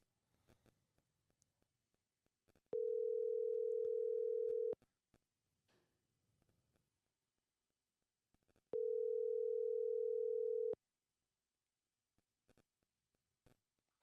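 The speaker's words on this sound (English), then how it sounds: "There's ringing." A steady phone ringback tone sounds twice, each burst about two seconds long with a long pause between, over faint clicks and near silence.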